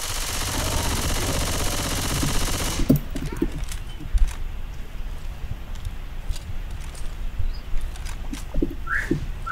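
Rapid gunfire bursts in the zombie shooter Left 4 Dead 2, a loud sustained burst at the start, then scattered shots, clatter and effects over a busy game background.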